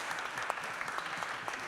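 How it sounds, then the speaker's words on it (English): Audience applause for the first speakers at a climate action partnerships event, a steady dense patter of many hands clapping together, moderately loud and continuous throughout with no voices on top. "can I have a really big round of applause for our first speakers?"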